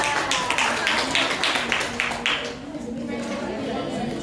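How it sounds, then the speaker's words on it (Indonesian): Students in a microteaching social studies class clap for a classmate named Tarisa, a burst of quick, evenly spaced claps that fades out partway through, followed by low chatter and talking. "jadi tepuk tangan dulu dong Mbak Tarisa"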